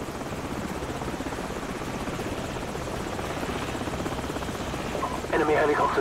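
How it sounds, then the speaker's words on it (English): A helicopter's rotor in the video game Call of Duty 4: Modern Warfare thumps steadily and fills the soundscape, growing louder toward the end, while people talk over it. "Sounds like we got enemy helicopters."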